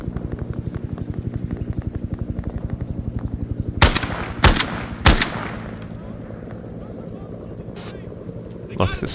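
Sustained rapid machine-gun fire in close-up combat, a steady stream of rounds for several seconds, then louder, sharper individual gunshots ring out nearby, with faint voices in the background.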